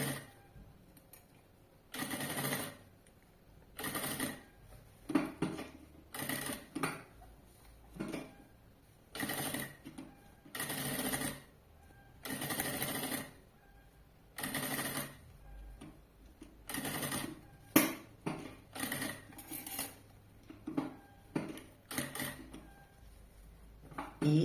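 Short, repeated bursts of a sewing machine stitching a zipper onto a backpack, each run of rapid close clatter separated by brief quiet gaps over about twenty-five seconds.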